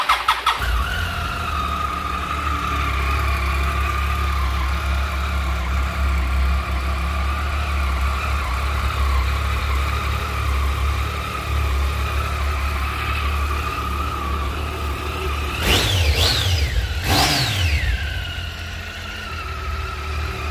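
A Triumph Tiger 800 motorcycle cranks and fires up, settling into a steady close idle, then gets two sharp blips of the throttle that rise and fall near the end.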